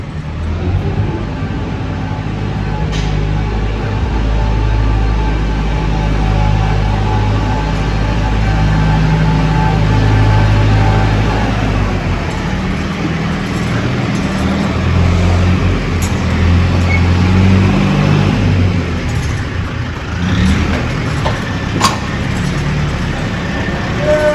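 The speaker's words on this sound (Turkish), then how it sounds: "traktörle yaydırıyor" A heavy tractor engine drones steadily and loudly nearby for the whole stretch while spreading wood shavings at a broiler chicken farm, its low rumble shifting slightly in pitch as it works.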